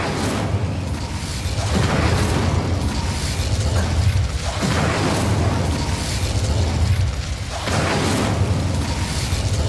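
Fire spell bursts in a Hogwarts Legacy game battle, several loud whooshing blasts and booms recurring every couple of seconds over a dense, continuous rumble of effects.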